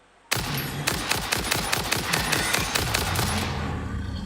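Rifle fire in Satisfactory, aimed at a big tick-like brontosaurus creature, comes as a loud, rapid automatic burst of evenly spaced shots lasting about three seconds, then fading into a low hum.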